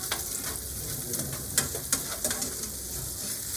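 Garlic sizzles steadily in a pan while being stirred, a constant frying hiss broken by a few sharp scrapes and clicks of the spoon against the pan.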